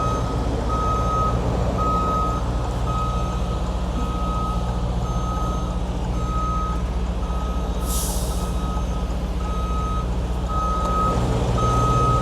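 A truck reverses into a parking spot, its backup alarm beeping in an even repeating rhythm over a loud steady engine idle, with a brief hiss of air brakes partway through.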